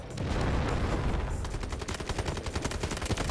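Rapid automatic gunfire from an M7 rifle in the shooter game Delta Force, a loud dense burst of cracking shots running continuously with short rhythmic pulses near the end, no talk over it.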